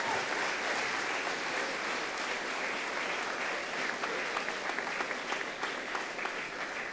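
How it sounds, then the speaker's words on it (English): Graduation audience at a secondary school ceremony stands and applauds, producing dense, steady clapping that fills the hall for the whole stretch, with scattered sharper claps near the end. "Please stand and give a huge round of applause for all the help you've had in getting here tonight."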